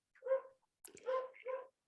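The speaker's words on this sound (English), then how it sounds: "sorry about the dog. She likes to talk." A dog gives a few short, close, moderately loud vocalizations, a whiny bark followed after a pause by a sharper yip and two more whimpering barks, in an otherwise quiet room.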